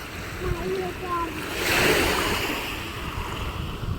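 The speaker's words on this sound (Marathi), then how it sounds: "मस्त मोठा समुद्र आहे शिवाजी पार्क" Sea waves wash in at Shivaji Park, with a steady broad surf hiss that swells briefly near the middle, and some wind noise on the microphone.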